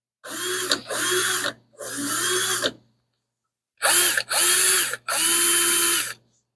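A power drill boring metal for a Mopar bellhousing conversion whirs in six separate bursts, two short, then one longer, a pause, then three more, loud and close.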